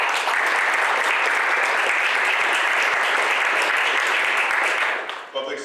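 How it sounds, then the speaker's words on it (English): A large audience at a graduation ceremony claps in a dense, steady burst of applause that holds at full strength for about five seconds, then tapers off quickly. "if we can give them a round of applause"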